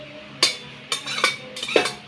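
Meat is added to a biryani pot in a home kitchen while a metal utensil clinks sharply against the pot four times, the clinks spaced irregularly over a quiet background.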